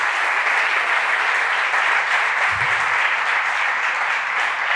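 A conference audience claps after a talk on Micronaut and GraalVM, an even, continuous rattle of many hands held at a steady level throughout, with no voices over it.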